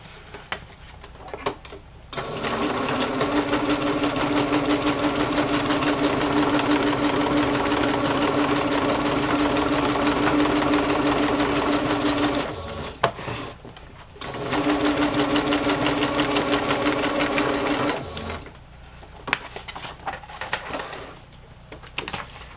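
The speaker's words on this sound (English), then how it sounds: "And I'm going to sew it on." Sewing machine stitching tissue and a playing card onto a craft journal page, running in two long steady bursts with brief pauses and handling noises between, loud and close.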